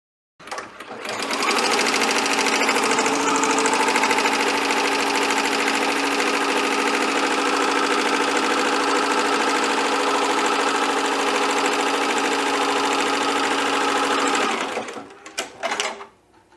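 An embroidery machine runs continuously while stitching an applique, a steady loud mechanical whir with rapid needle chatter for about thirteen seconds before stopping, followed by a few short clicks.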